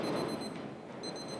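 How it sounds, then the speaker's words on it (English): A kitchen timer set for Eva Solo coffee brewers beeps in short repeated high tones, stopping briefly and starting again over a soft background hiss, with no talking. "that's my timer for the Eva Solos we poured"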